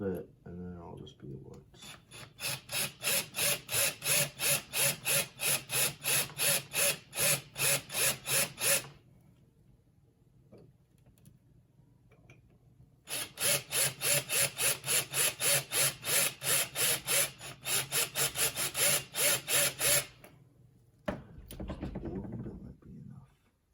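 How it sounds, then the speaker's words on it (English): A tool grinds into the bolts of a scrap truck bed in rapid, even rhythmic strokes, loud and close, in two long bursts split by a quiet gap, with a short rough burst at the end. "I would say drill it just a little bit"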